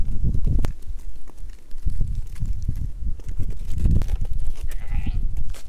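Several goats bleat repeatedly on a farm, close and fairly loud, with overlapping calls and some shuffling and movement noise between them.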